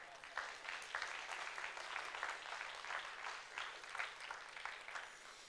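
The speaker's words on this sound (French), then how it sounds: "Je vous propose d'applaudir les techniciens." An audience applauds the technical crew at a talk, a sustained, moderately faint spread of clapping from many hands throughout, with voices mixed in.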